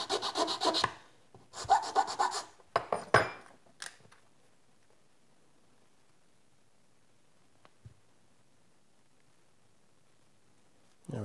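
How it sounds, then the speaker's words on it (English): Oak scrap wood being cut and tapered by hand for a sculpting tool: a few short rasping, rubbing strokes in the opening four seconds, then near quiet with a faint tap. "Oak cuts a whole lot better than cherry, that's for sure."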